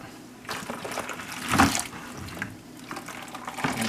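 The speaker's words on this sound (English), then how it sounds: "I just take the hot boiling water and rinse the pail out" Hot boiling water splashes and pours into a pail, rinsing out bleach water, with a louder sloshing burst midway, close by and without speech.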